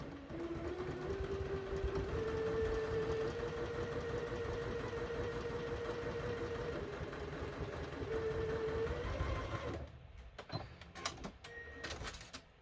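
A home sewing machine runs steadily stitching quilt pieces, a close, even mechanical whir with rhythmic needle clatter that shifts speed, then stops and gives way to a few clicks and handling noises.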